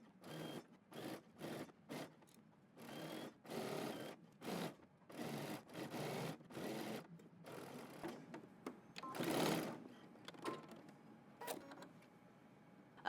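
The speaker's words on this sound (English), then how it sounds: "we're going to go ahead and stitch around our sleeve using 5/8 of an inch seam allowance" A sewing machine stitches around a jacket sleeve with a 5/8-inch seam allowance, running in short bursts of rapid whirring separated by brief pauses, close and clear.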